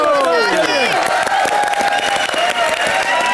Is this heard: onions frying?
no